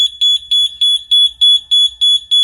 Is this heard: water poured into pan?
no